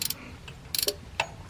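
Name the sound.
15 millimeter wrench turning a bolt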